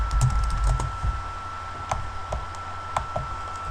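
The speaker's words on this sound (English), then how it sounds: "I'll just do motext and type in render." Bursts of keystrokes on a computer keyboard, close and clear, quick uneven clicks trailing off into a few isolated taps over a low background hum.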